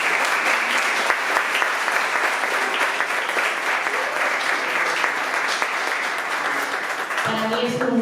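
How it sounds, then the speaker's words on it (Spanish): An audience at a local heritage conference session applauds a speaker seated at the table, a dense sustained clapping that fades as a voice begins speaking at the end. "Vamos a darle un aplauso a Laura, que está nerviosa."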